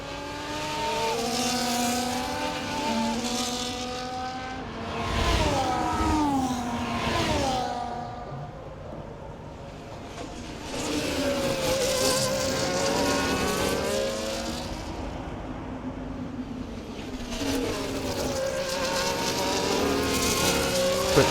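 An F1 car in EA Sports F1 racing around the Baku street circuit in Azerbaijan, its high-pitched engine screaming through repeated upshifts and lifts on the throttle, with other cars whining past, loud and continuous, with no talking.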